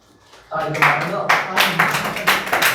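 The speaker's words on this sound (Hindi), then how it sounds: "इनके लिए ताली लगाए" A class claps for a student who won a prize for scoring top marks on a test, a sudden burst of hand clapping that starts abruptly and keeps going steadily, with voices talking over it.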